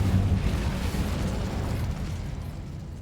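A fiery Incendio spell erupts in Hogwarts Legacy, a dense, rumbling blast that stays heavy and continuous for about three seconds, low and booming throughout with no one talking over it.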